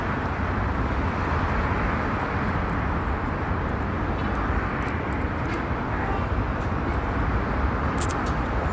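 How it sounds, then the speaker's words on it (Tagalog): A bus pulls up at a stop on a street in Israel amid steady, loud broadband traffic rumble, with faint high-pitched squeaks and brakes toward the end; no clear talk over it. "Ayan na yung bus niya."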